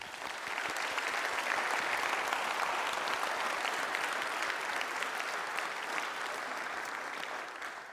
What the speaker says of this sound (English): I could really love for everyone to just clap up for all that Fab Academy students